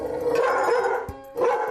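A dog barks excitedly and repeatedly at a visitor arriving indoors, loud, close bursts with a short gap before the barking resumes.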